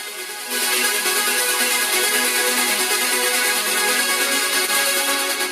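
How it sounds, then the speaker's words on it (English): A bright, high synthesizer plug-in sound enters after a short moment and holds as a dense, shimmering layer above a soft melody in a studio mix, steady and fairly loud. "high frequent synthesizer plug sound"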